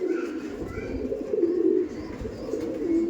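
Madrasi tournament pigeons coo softly and repeatedly, their low throaty calls rising and falling close by over a quiet background, with no talking.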